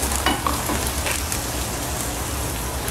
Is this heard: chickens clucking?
no